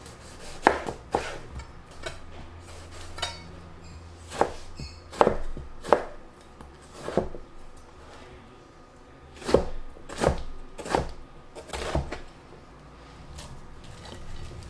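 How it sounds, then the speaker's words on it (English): Knife chopping beans and tomato on a board, irregular bursts of sharp chops with short pauses between, close and alone without talk. "So let's chop the vegetables."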